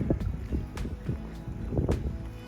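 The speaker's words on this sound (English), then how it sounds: "So if you can hear the wind a lot, I am sorry." Steady wind buffets the microphone in low rumbling gusts near Lake Louise in the Canadian Rockies, with a brief breathy rush near the start and again toward the end.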